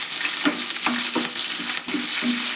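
Curry leaves and green chillies fry in hot oil for a rice tempering, a bright, dense sizzle punctuated by quick rhythmic spatula strokes against the pan, close up and without speech.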